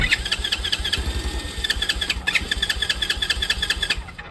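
A carbureted Grom clone motorcycle's small single-cylinder engine cranks and catches, running with a rapid, loud ticking rhythm that rises and falls with bursts of throttle, close by.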